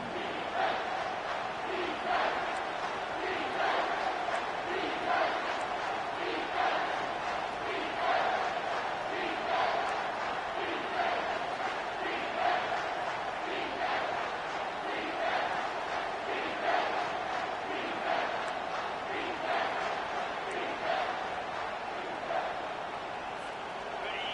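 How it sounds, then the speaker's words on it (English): Crowd roaring in an NCAA football video game on third down, a sustained loud rumbling roar with rhythmic pulsing chants throughout. "Decibels rising as the crowd gets behind this defense on 3rd down."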